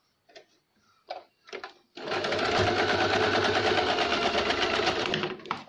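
A sewing machine stitches a folded point on a lined blouse, running in one steady, fast, close burst for about three and a half seconds after a few short handling knocks.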